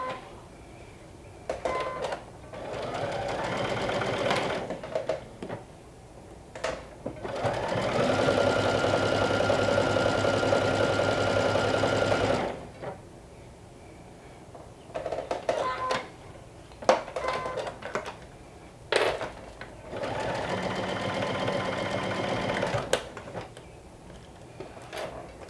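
A sewing machine basts the bottom of a Sinclair Violet garment in bursts of steady, close, mechanical whirring, with two longer runs separated by short clicks and handling noises.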